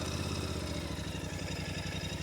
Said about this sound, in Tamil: அப்படியே ஒரு ஸ்வீட்டான ஒரு சவுண்டிங்கில் பெருசாக வைப்ரேஷன்ஸ் எதுவுமே இல்லாமல் அப்படி சூப்பராக ஐடில் ஆகுது.